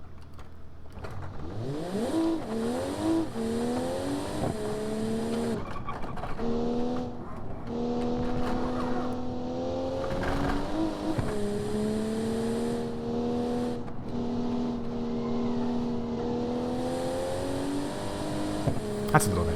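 A 1988 Bay12 Motors car driven in BeamNG.drive: the engine revs up and shifts through gears in a steady rising-and-dropping drone, running continuously with brief gearchange dips, under occasional talk.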